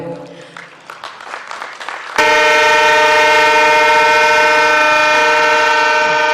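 The Rajdhani Express in Mizoram sounds a long, loud, steady horn after a few seconds of scattered rumbling and clatter. The horn starts abruptly and holds, close and dominant.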